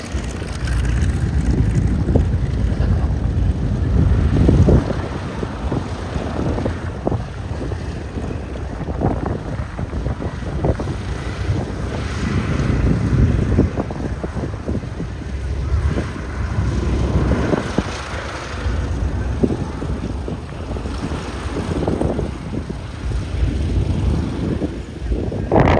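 Vintage aircraft engines run at an airshow at East Leeds Airport, a loud rumbling drone that swells and fades over about half a minute, mixed with gusty wind buffeting the microphone.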